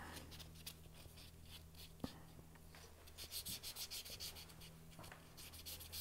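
Soft, close scratchy rubbing of a sanding sponge on a small polymer clay earring, lightly sanding its edge, in short bursts and gentle strokes over a faint background hum.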